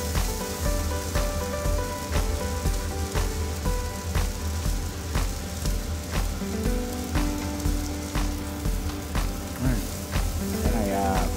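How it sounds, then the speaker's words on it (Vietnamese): Steady loud sizzling of cicadas frying in a pan with onion, with occasional stirring scrapes and background music running throughout. "bây giờ chúng ta cho ve sầu vào và đảo đều chiên lên"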